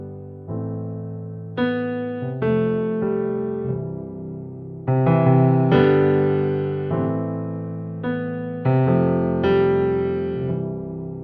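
A keyboard on a budget Nord-style setup plays a slow sequence of warm sustained chords with no pad layered in, each chord struck and held in turn, clear and close with no talking.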